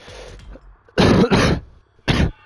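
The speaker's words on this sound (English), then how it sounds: "Sorry, still coughing" A person clears their throat and then coughs hard three times in quick, harsh bursts, close up with no talking.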